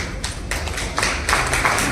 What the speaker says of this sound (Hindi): तो ये तालियां जो अभी बजी हैं